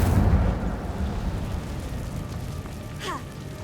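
Incendio fire spell cast in Hogwarts Legacy inside a cave, a dense rumbling roar that starts loud and settles into a steady low crackle, with a short rising magical chime near the end.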